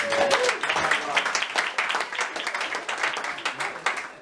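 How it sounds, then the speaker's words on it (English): A running club's awards night audience gives a round of applause, moderately loud clapping indoors with some voices mixed in as it tapers off. "So yeah, one big round of applause again"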